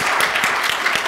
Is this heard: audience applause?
yes